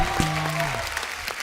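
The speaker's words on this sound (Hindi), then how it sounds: "जोरदार तालियां एक बार" A studio audience on The Kapil Sharma Show claps in a brief burst of applause, overlapped at the start by a falling tonal sound.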